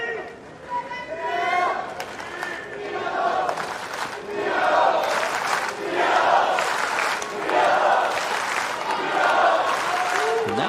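A US Open tennis crowd at the 2024 second-round match between Arthur Fils and Gabriel Diallo roars and cheers in repeated swelling waves, loud and broad, with a commentator talking over it.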